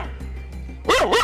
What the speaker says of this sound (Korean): 갑작스러운 상황에 놀란 녀석 사납게 짖어대는데